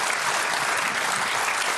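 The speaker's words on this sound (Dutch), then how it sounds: "een applaus voor mijn mannetjes" Steady, dense audience applause fills the space, a continuous close wash of many hands clapping with no pauses.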